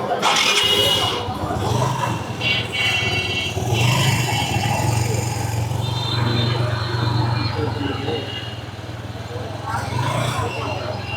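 A TVS 125cc motorcycle converted to classic style starts and settles into a steady low idle nearby, running continuously while people talk over it.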